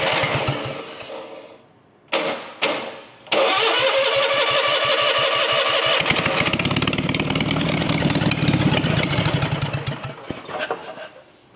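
A Bobcat skid steer engine cranks in a few short bursts, stalls, then catches and runs loudly at a steady roar, up close, with the cranking and running drowning out any voice.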